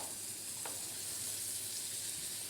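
Veal searing in fresh butter in a very hot pan, a steady close sizzle and hiss with faint spitting that carries on unbroken.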